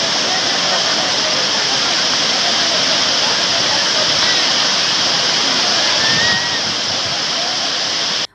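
Floodwater from heavy rains pours over the weir of the Karatwada project, a loud, continuous roaring rush of falling water close by that ends abruptly.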